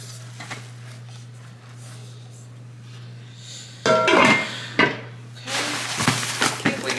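A big new cooking pot from a pot set is handled, giving a quiet stretch and then several clanks, knocks and rattles of metal cookware near the end under a steady low hum.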